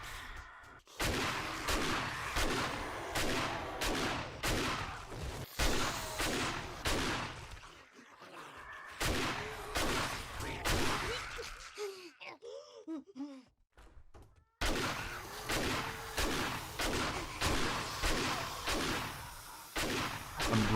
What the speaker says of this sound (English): I'm shooting at you.